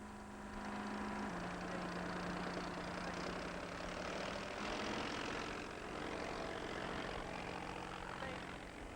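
A Transfield Airtruck agricultural aircraft takes off from a rough airstrip, a dense steady engine and propeller roar filling the whole stretch, loud and continuous with a slight rise and fall in pitch.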